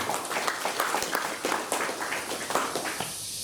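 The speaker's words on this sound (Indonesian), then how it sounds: "Tepuk tangan untuk panjenengan semua" Scattered audience clapping at a religious talk held in the offices of a regency civil police and fire brigade, moderate and uneven, with individual claps standing out before it thins at the end.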